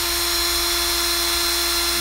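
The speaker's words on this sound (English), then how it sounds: "I'm gonna start running the drill." An electric drill spins a screw held against a tool for sharpening, giving a steady, continuous high whine with a low hum beneath it, close and alone without talk.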